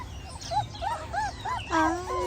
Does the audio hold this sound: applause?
no